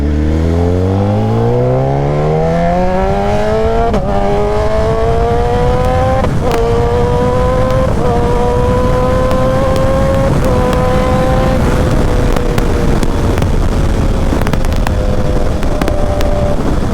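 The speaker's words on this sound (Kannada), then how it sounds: "ಈಗ ಕ್ವಿಕ್ ಶಿಫ್ಟರ್ ಯೂಸ್ ಮಾಡಿದ್ರೆ ಹೆಂಗೆ ಸೌಂಡ್ ಕೇಳುತ್ತೆ ನೋಡೋಣ" A 2012 BMW S1000RR sport bike engine revs hard and climbs through the gears, each rapid quick-shifter upshift marked by a sharp break in the rising howl, loud and close with no talking.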